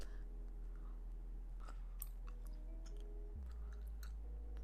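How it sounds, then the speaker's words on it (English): Close, wet chewing of a chewy, rubbery peach-flavored pastille gummy candy from a Japanese snack box, with a few soft clicks and bites over a steady low background hum and no talking. "I've been chewing on it and it's not breaking"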